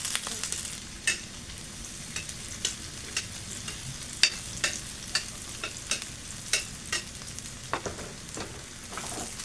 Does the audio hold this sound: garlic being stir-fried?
yes